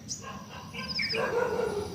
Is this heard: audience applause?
no